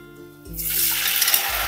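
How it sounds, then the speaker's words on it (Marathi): Water poured into a spice mixture of red chilli powder, turmeric and salt in a hot pan, breaking into a sudden loud sizzling hiss after a quiet start, close and alone. "यामध्ये आता आपण थोडंसं पाणी घालूया।"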